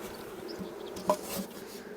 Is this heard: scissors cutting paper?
no